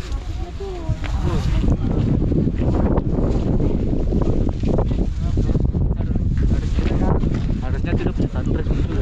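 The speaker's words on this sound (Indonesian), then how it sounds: "Ini dia angin kencang sekali." Strong wind on Mount Bromo buffets the microphone in loud, continuous rumbling gusts that fill the whole clip, with voices partly buried beneath it.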